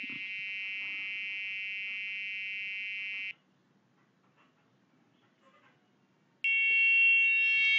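An Arduino-driven electronic buzzer sounds a steady high-pitched tone for about three seconds, falls silent, then resumes at a slightly higher pitch.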